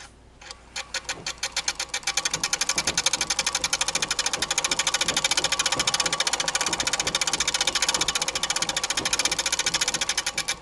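A Singer 237 sewing machine runs its bobbin winder, giving a steady, loud, rapid mechanical clatter with a regular ticking rhythm that starts up in the first second and continues evenly throughout, with no talking.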